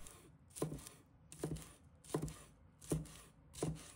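Knife chopping scallion whites into short pieces on a cutting board, five evenly spaced thuds about a second apart, close and clear, with no talk.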